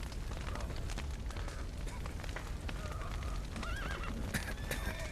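Horses in The Witcher 3 whinnying and stamping, hoof clops scattered throughout under a steady ambient bed, with a distinct neigh near the end and faint game background noise.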